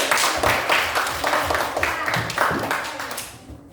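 A class of fifth-grade primary school pupils claps together in an Indonesian classroom, producing a fairly steady, rhythmic run of hand claps that fills the room before fading slightly at the end.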